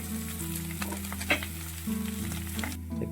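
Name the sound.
mashed potato filling frying in a pan for aloo paratha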